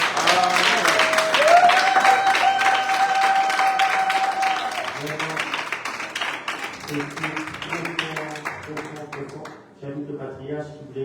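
Church congregation applauding at a Pentecost service, clapping mixed with speech and a sustained tone in the first half, then thinner rhythmic sounds and voices toward the end.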